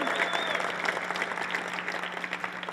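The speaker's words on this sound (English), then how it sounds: "Give yourself a bit of a cheer for that." Audience applause fills the room steadily, a dense patter of clapping with some crowd noise mixed in, fairly loud and sustained throughout.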